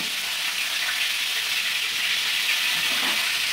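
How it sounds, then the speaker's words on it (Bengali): Salted, turmeric-coated cauliflower and cabbage frying in a pan, a steady, dense sizzle that holds at an even level throughout with no talk. "এবার ভাজবো।"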